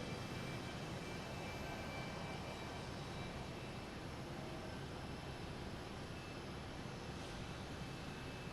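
A JetBlue Airbus A220 jet engine revving at Boston Logan Airport, heard as a steady broadband roar that continues without a break, with no talk over it.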